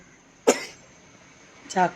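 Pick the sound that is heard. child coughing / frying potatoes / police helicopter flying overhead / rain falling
child coughing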